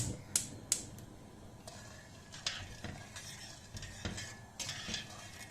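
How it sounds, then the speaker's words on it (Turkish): A spoon stirs sugar into water in a pot for cornelian cherry jam, giving faint, scattered clinks and scrapes, with a couple of sharper taps early on. "karıştıralım böyle şeker eriyene kadar ee, kaynatalım."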